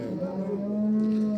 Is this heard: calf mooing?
yes